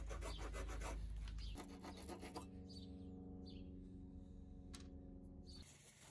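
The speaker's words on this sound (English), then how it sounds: "If you have a coarse grit metal file, filing the brass is easy peasy" A coarse metal file rasps against a brass piece being shaped for a router plane part, the rubbing strokes steady and close for the first couple of seconds before giving way to a quieter hum with faint scraping.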